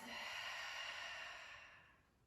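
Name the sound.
exhaling through the mouth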